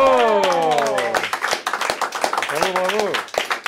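Family members applaud their grandmother at a 2006 Christmas gathering, with brisk, uneven hand claps close by that continue steadily under overlapping voices and exclamations.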